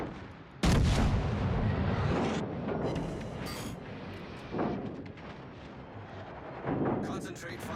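Heavy naval gunfire from warships in World of Warships Legends, a booming salvo that rumbles on, then further loud blasts at intervals, under game sounds.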